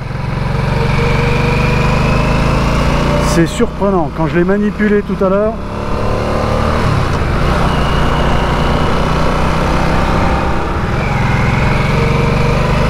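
A Harley-Davidson Nightster motorcycle engine runs steadily throughout a test ride as a continuous low drone, with someone talking over it and a short burst of chirpy tonal sounds partway through.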